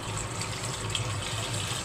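Water pours steadily into a cooking pot while fish soup is being made with ricados and chili, a continuous close splashing gush filling the whole moment with no voices.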